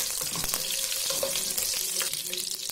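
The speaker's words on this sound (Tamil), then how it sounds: "2 பச்சை மிளகாய் ஆட் பண்ணிக்கிறேன்." Green chillies, bay leaf, cinnamon, cloves, cardamom and star anise fry in hot oil for a prawn biryani, giving a continuous close, crackling sizzle with small pops and spatters throughout.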